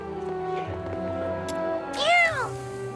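Cat in the video game Duet Night Abyss, set in a fishing village inn area: a single clear, loud rising-and-falling meow near the end, after quieter ambient tones.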